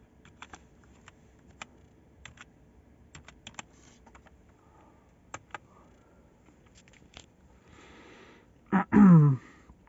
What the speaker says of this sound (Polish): muszę wpisać hasło